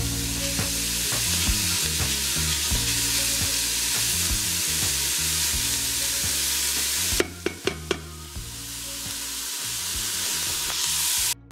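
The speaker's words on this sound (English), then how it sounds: "I'm going to leave it and get some nice color on that bacon there." Bacon sautéing in an Instant Pot gives a steady, close sizzle and crackle that runs throughout, with a few sharp clicks and knocks from a utensil late on and no voices.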